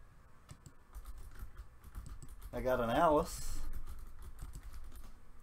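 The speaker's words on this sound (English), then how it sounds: "Sorry, guys, that's me typing." Quick clicky keystrokes on a computer keyboard patter steadily throughout, close to the microphone, while someone briefly speaks over the middle of the typing.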